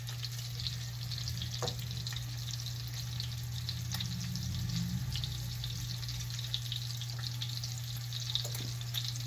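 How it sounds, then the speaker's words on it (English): Lamb chops sear in a hot pan, giving a steady, continuous sizzle with a constant hum underneath, close and unbroken, with no voices. "And we're just going to sear those off until they're browned on both"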